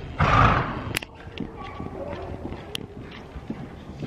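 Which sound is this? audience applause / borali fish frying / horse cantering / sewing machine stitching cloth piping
horse cantering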